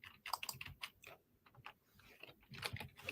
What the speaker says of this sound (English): Can I type the password in now?